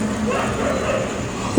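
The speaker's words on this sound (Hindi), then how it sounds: "अभी मेरे बैकग्राउंड म्यूज़िक में आपको कुत्तों की आवाज़ भी आ रही होगी" Dogs bark and yip outside at night, heard at a distance in a steady stream of yelps and whimpers under a murky background hum, with no clear talk.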